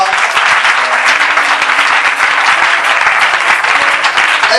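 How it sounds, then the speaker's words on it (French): Sustained audience applause from a large crowd filling a hall, dense and steady throughout with no breaks, loud and close, no voices standing out. "j'aimerais que tu l'acclames"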